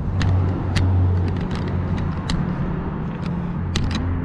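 A 2018 Dodge Challenger Scat Pack 6.4L with BBK long-tube headers idling with a deep, rumbling exhaust burble, steady and close, with a few light clicks and ticks over the top.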